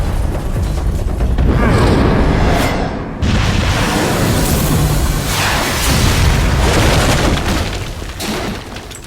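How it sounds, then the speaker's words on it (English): A missile strikes in the video game Metal Gear Solid V, and a loud, rolling explosion roars and rumbles for several seconds, heavy and close, with no one talking. "Oh, they're gonna shoot a missile at it."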